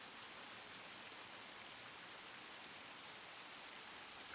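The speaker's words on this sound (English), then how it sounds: "I listen to the sound of the rain." Steady rain ambience in the Tsukihime visual novel, a faint, even hiss of falling rain with no other sounds or voices.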